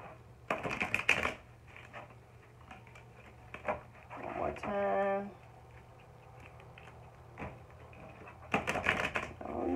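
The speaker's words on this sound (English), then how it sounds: "It's like these cards don't want to shuffle." Tarot cards riffle and slap in short bursts of shuffling, with soft handling taps between, and a person talks in between the bursts.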